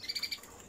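Canaries in an aviary give a quick run of four bright, close chirps in a row, then fade to quiet room noise, brief and fairly soft.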